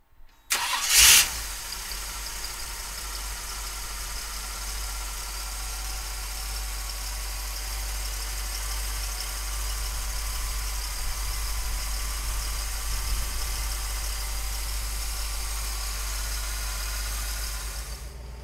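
A 1956 Ford pickup engine cranks and catches with a sharp burst, then settles into a steady, rumbling idle that carries on close and continuous with no talking.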